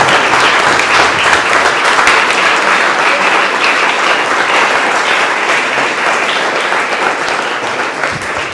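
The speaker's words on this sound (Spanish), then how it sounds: "Vamos a darle un fuerte aplauso a estos niños" A congregation at Mass applauds a group of children, a steady, dense wash of clapping from many hands that fills the whole space and tapers slightly toward the end.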